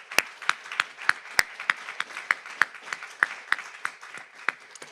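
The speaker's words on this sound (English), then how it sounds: "Let's give them a round of applause." At an anniversary celebration held at a law school in New York, a fairly small audience gives a sparse round of applause, with distinct individual claps ringing out at a quick, uneven rhythm in a quiet hall.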